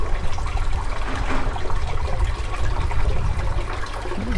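Steady gushing and trickling of a water feed pouring into a cheap cut plastic gutter in a flood-and-drain aquaponics setup, continuous and close with no talking.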